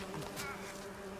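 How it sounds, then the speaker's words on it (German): Bees buzz in The Witcher 3: Wild Hunt, a steady, close insect drone that holds evenly through the short moment with no talking. "So, dann braten wir uns hier mal die Bienen weg."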